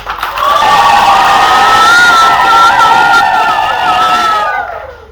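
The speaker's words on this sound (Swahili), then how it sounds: "Kofi na vigelegele kwa mtoto." A church congregation at a Christmas celebration claps and ululates for a child: loud, sustained, trilling high-pitched ululation over crowd cheering, fading at the end.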